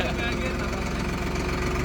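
A tractor engine idles on a farm during potato digging with a steady mid-pitched rumble, close and continuous. Someone talks over it.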